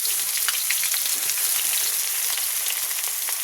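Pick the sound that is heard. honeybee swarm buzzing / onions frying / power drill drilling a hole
onions frying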